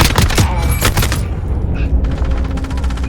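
Assault rifle fire from Call of Duty: Modern Warfare comes in rapid loud bursts mixed with in-game booms and other effects, while someone talks over it.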